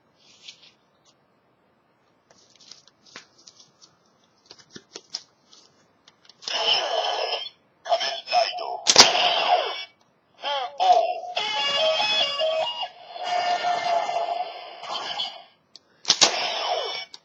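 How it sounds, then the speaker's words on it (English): Kamen Rider Decadriver toy belt playing the Den-O Sword Form Kamen Ride sound: soft clicks of handling, then loud electronic chimes, announcer-like effects and music bursts in several segments, close and bright. "That was the sound of sword form, Momotaros' form of Kamen Ride."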